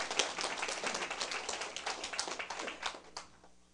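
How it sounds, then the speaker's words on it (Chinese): An audience at a political lecture on the Taiwan government claps steadily in a dense patter of hand claps that tapers off toward the end. "拍手吧！"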